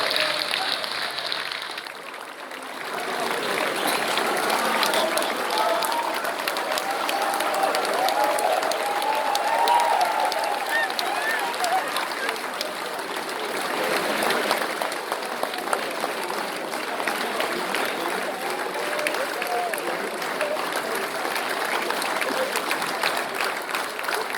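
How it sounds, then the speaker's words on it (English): Sustained audience applause fills a theatre awards ceremony at a boys' Shakespeare drama final, a dense, even wash of many hands clapping for over twenty seconds after a brief quieter start. "Look at the applause, ladies and gentlemen."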